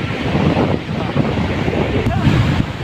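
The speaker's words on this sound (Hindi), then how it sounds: "बहुत ज़्यादा ठंडी हवाएं चलना शुरू हो चुकी हैं" Cold wind blows hard across the Sach Pass mountain road near Chamba, a loud continuous buffeting rush that roars against the microphone, with no talk over it.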